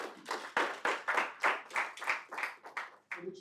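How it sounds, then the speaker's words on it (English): An audience at a CEO investment masterclass in Doha claps in a dozen or so fairly even, rhythmic bursts of applause, moderately close and standing alone without talk. "I think you should clap."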